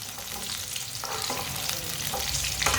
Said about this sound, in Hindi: इसे ऐसे ही चम्मच चलाते हुए पकाना